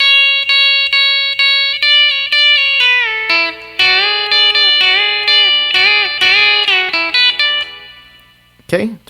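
An electric guitar with a B-bender plays the opening line of a song's solo, bright country notes with repeated picked tones and smooth pitch bends, loud and alone, ending in a short muted scrape.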